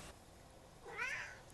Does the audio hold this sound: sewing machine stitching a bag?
no